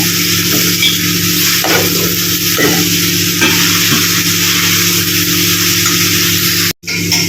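Turmeric and sugar get stirred into pumpkin chechki in a hot pan, giving a continuous loud sizzle broken by scraping spoon strokes.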